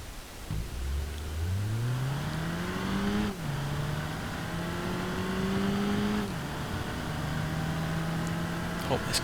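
A Cherrier crossover in BeamNG.drive accelerates hard, its engine note climbing through the gears with two clear upshifts, loud and close throughout, with a faint voice talking over it.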